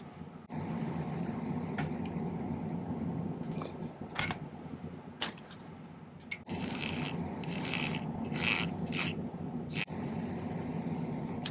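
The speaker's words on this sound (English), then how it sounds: "So I'll generally be filing it down a little bit." A metal file works a silver bezel strip for a ring, making a continuous close rasping scrape with repeated strokes and a few brighter scratchy bursts, without talk.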